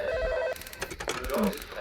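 A telephone rings in a police emergency call video game, sounding as a short electronic ring tone that is cut off partway through, followed by faint clicks and brief game noises.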